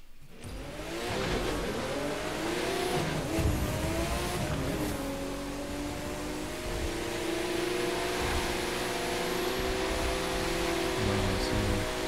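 A Porsche RSR race car engine in The Crew 2 drones steadily at moderate volume, a sustained revving tone with a slow rising pitch over a bed of rushing road noise.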